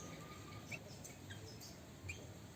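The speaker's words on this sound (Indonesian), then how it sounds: "Hutan kecil penuh burung ini" Birds chirp in a small forest, brief scattered tweets and calls at a distance, faint over quiet background hiss with no talking.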